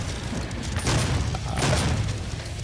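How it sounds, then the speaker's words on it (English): A chain gun with the mobile turret upgrade fires in Doom, a dense, continuous roar of rapid shots with heavy low thumps, loud and unbroken across the whole stretch. "I'm just showing the chain gun"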